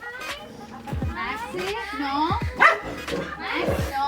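A dog barks several times in short bursts, fairly close, while people talk and children's voices carry in the background.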